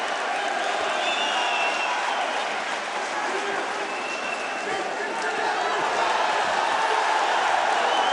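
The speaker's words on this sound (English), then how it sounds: "Listen to this crowd" A fight crowd at a Marios Blanas vs. Bogdan Nastase bout keeps up a steady, dense roar of cheering and noise throughout, broad and continuous with no breaks, and voices mixed into the din.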